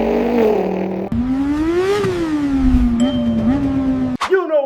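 A human voice imitates a Lamborghini supercar exhaust, producing a rising and falling revving drone with a sharp break partway through and a final quick blip, close and loud with no other sounds.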